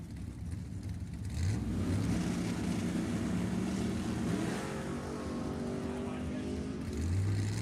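A 1979 Chevrolet Malibu and a 1967 Chevrolet Camaro launch side by side at a drag strip, with loud, sustained engine roar and rising revs that hold steady across the run.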